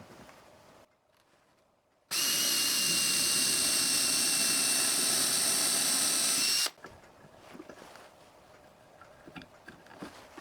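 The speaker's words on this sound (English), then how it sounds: "So next I'll drill holes for them." A power drill bores dowel holes into wood for the lower shelf support of a small side table, one loud steady whine lasting several seconds, starting and stopping abruptly, with quiet workshop rustling before and after.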